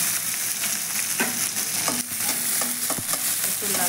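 Onions and green chillies frying in oil in a pan, a dense continuous sizzle close up with intermittent spatula scrapes and taps as they are stirred.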